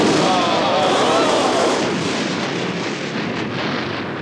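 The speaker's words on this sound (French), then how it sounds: "L'explosion de la planète polluée a laissé tout le monde bouche" A huge booming cartoon explosion of a planet roars out and slowly rumbles away into a long, fading crackle.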